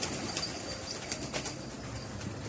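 Pigeons coo softly at a loft, low repeated murmuring calls layered over steady background noise, moderately near.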